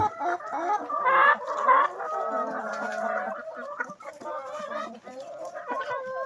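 Several free-range chickens cluck and chatter close by outdoors after a few days of rain, a busy overlapping flock with steady murmuring calls and occasional louder squawks throughout.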